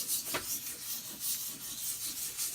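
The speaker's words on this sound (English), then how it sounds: "This is 600 grit sandpaper" Fine 600 grit sandpaper is rubbed over wood freshly coated in Danish oil, giving soft, rhythmic back-and-forth scratching strokes, close and quiet, with no voices.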